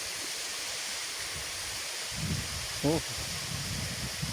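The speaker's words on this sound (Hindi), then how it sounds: "पानी बह रहा है" A stream flows through a village in Azad Kashmir, a steady, even rush of water heard from nearby throughout, with a man's brief exclamation rising over it midway.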